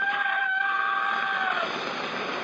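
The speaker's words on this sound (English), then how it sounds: "That was one of Mrs. Webb's cockerels." A cockerel crows once just before dawn, a single drawn-out call that trails off, heard close and clear with no talk.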